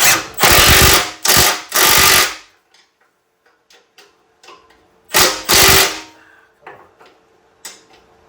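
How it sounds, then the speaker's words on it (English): Sharp bursts of a pneumatic impact wrench hammering, two pairs of loud rattling blasts separated by quieter clicks and clanks of tools, including an adjustable wrench. "I don't think my adjustable wrench likes this impact wrench very much."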